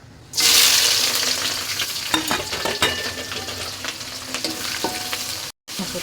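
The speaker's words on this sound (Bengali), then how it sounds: "এখন আমি তেলটা গরম হয়ে গেছে, পেঁয়াজ দিয়ে দেবো।" Onions drop into hot oil for a vegetable bhuna khichuri and set off a sudden loud sizzle, which settles into steady frying crackle with occasional stirring clicks and one brief cutout. There is no talking.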